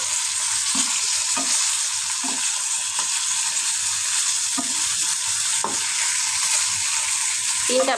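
Three fish pieces frying in a pan, a loud, steady hiss of hot oil with occasional soft knocks and stirs at irregular intervals, heard up close with no speech.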